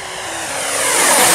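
A twin 64mm EDF model F-15 Eagle jet at full throttle screams past, its high whine swelling steadily louder as it closes in over a second and a half, with no talking.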